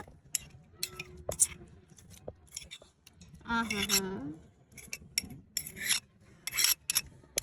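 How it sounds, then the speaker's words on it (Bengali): Green chili and coriander leaves ground by hand on a stone, giving rough rasping, scraping strokes in uneven bursts, close and fairly quiet, with a brief hum of voice in the middle. "এবার বাটলাম লঙ্কা ধনের পাতা"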